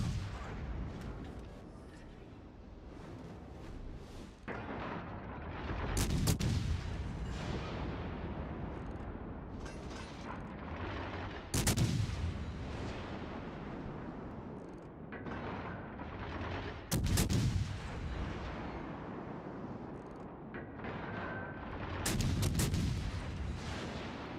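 Heavy naval ship guns boom in repeated broadside salvos in World of Warships, each blast followed by a long rumbling roar, roughly every five to six seconds over a continuous dense battle din.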